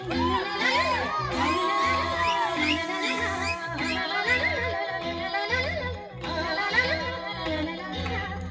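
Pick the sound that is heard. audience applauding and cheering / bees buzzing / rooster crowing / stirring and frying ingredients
audience applauding and cheering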